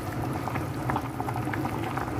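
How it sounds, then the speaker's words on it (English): White rice is stirred in a cooking pot, a close, wet bubbling and scraping texture with soft irregular clicks across a couple of seconds, with no talking. "Stir up the white rice a little bit."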